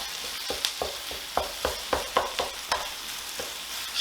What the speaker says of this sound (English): I'm going to go ahead and start giving this a stir.